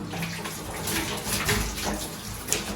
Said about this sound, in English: I've got a continuous flow of water.